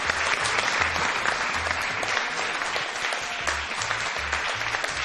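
Steady applause from a studio audience at a Turkish mother-and-daughter game show, dense and continuous clapping with a low rhythmic beat running underneath throughout.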